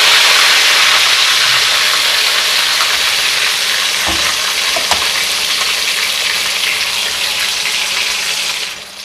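Chapli kababs fry in a pan of hot oil with a loud, dense, steady sizzle and hiss up close, a couple of faint knocks partway through, fading slightly at the very end.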